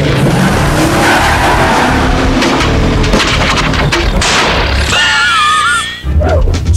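Car from the One Piece cartoon rolling into traffic, loud roaring engines and a long tire screech as speeding vehicles skid past, ending in a sharp impact-like burst and a brief gap.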